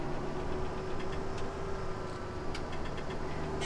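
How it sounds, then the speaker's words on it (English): A tractor engine idles steadily in Farming Simulator 17, a continuous low mechanical drone with a faint tonal hum, heard close and alone for the whole stretch. "Yes, this tractor is going to have to be used."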